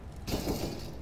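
An incendiary grenade shattering in the Counter-Strike video game: a sudden bright glassy crash followed by a short sizzling burst, fairly faint, with a sharp tick at the end.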